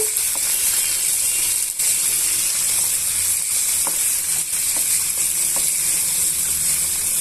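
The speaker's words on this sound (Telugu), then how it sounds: "ఇప్పుడు మనం ఇవన్నీ కూడా బాగా వేయించేసుకుందాము" Chillies frying in a pan for pickle give off a steady, dense hiss and sizzle, with a few faint scraping stirs and light clicks under it and no talk.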